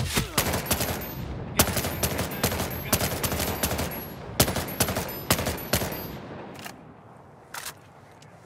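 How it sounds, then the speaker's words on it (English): Rapid gunfire in a video game combat mission, a string of loud, sharp cracks in irregular bursts, some closely spaced, tapering to scattered single shots toward the end. "Incoming sniper fire!"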